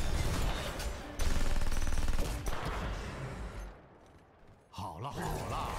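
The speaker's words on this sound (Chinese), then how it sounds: "全自动射击。" Sustained full-auto gunfire from Tychus in the game Heroes of the Storm, loud, dense bursts for several seconds, thinning out then resuming, mixed with game effects and a voice.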